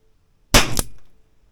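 A single sharp shot from a Weihrauch HW4 air rifle with a 2.5-inch barrel cracks out of near silence, with a brief metallic ring and short decay afterward.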